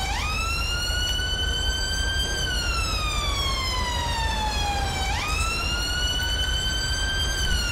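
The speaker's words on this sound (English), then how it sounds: "in the UK, these sirens are quite loud, especially in the Met area" A loud UK Metropolitan Police car siren in the LSPDFR video game mod wails steadily, rising and falling in long slow sweeps over a constant engine rumble, heard close and continuous without speech.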